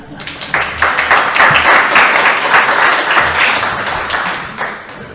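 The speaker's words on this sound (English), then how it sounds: "So if we could just give them a round of applause for that." Audience at a National Council meeting breaks into applause, a dense, loud wash of clapping that swells quickly, holds steady for several seconds, then begins to taper.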